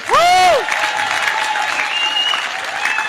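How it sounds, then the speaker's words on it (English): An audience at a Zambian independence celebration in Chicago claps in sustained applause, heard from nearby, with a short tonal burst at the very start. "you deserve a big hand of applause to yourselves"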